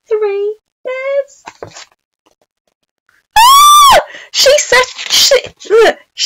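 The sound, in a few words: storyteller imitating Goldilocks' loud scream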